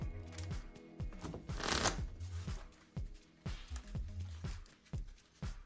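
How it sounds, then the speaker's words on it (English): A deck of Pokemon TCG cards is riffle-shuffled on a tabletop during a match, giving repeated crisp bursts of fluttering card snaps in a steady rhythm, close and clear with no talking. "Shuffle this up."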